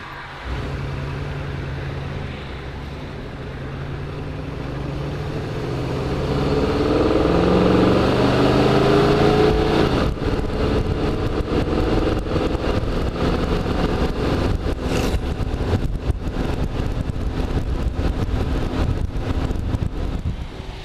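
A red 1958 Corvette with its engine running: a steady, smooth low rumble close by that swells in the first half, then settles into a continuous hum with gusty rustling over it.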